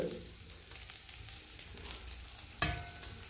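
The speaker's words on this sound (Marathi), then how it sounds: "त्यानंतर आपण सर्व मसाले टाकून घेऊया" Spices are added to Bombay duck curry frying in a pan, with a steady close sizzle, soft stirring scrapes, and a sharper burst of frying near the end.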